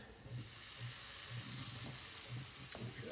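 Skirt steak sizzling on the grates of a smoker, a steady loud crackle with bursts of popping fat, close and continuous with no talk.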